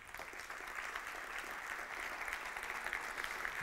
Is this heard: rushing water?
no